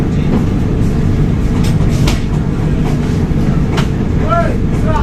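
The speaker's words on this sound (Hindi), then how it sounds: "तो हमारी ट्रेन कंप्लीट डिपार्चर ले चुकी है मुंबई सेंट्रल से।" Rajdhani Express train pulling out of Mumbai Central station, a steady loud rumble of wheels and carriage noise with a few brief squeals and clanks, heard from on board.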